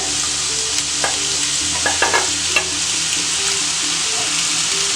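Sliced onion, cut to a medium size, frying in hot coconut oil for a Kerala-style scrambled egg curry: a steady, close, broadband sizzle runs throughout, with a few soft stirring clicks near the middle and no voices.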